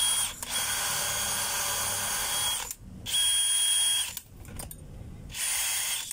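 A power drill whirs in three sustained high-pitched bursts while loosening its chuck, with brief pauses between them, loud and close, with no talking.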